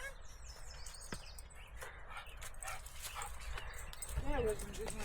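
A dog barks and whimpers with short yips and whines, close by, while people talk over it in an outdoor setting with faint birds.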